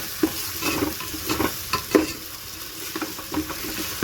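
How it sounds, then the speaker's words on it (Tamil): Ginger garlic paste and softened onions sauté in a pan for biryani, a steady sizzle with irregular scraping strokes of a spatula stirring up close. "சேர்த்து நல்லா வதக்கி விட்டுக்கலாம்."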